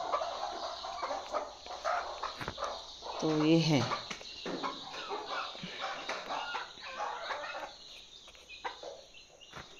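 Chickens in a shed roofed with metal sheets make scattered clucks and one louder fowl call, fairly faint and intermittent, while a person talks quietly nearby.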